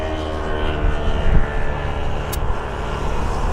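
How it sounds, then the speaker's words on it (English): A small light aircraft flies overhead near an airport, its engine a steady, moderately loud drone held for the whole stretch with no voices. "We've got a small light aircraft, I believe, heading our way."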